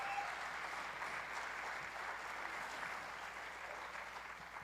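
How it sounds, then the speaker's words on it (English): An audience at a community arts celebration gives a steady round of applause, a dense even wash of clapping that holds throughout and stays fairly distant. "I do want to thank a big round of applause for Kim"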